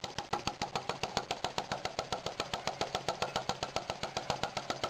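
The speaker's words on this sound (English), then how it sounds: "Here we have a Paradox flame licker hooked up to some illuminating gas I had made up, and we'll see if she'll run or not." A Paradox flame licker gas engine runs on illuminating gas, giving a steady rapid train of sharp rhythmic puffs and knocks, close and fairly quiet, with no talking.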